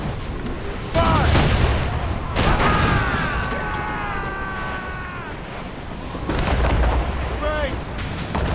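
Naval cannon fire aboard a sailing warship in Assassin's Creed Rogue, with heavy booming blasts at the start and near the end over rolling sea and wind noise, and shouting voices in the background.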